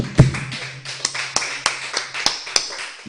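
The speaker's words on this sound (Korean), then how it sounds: "우리 박수 한번 쳐주세요" Church congregation clapping during a Korean sermon, a sparse run of separate, sharp claps spread through the room, with a low hum underneath and no talk.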